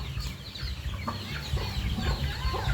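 Chickens cluck softly nearby at feeding time in the rain, over a low, steady outdoor rumble.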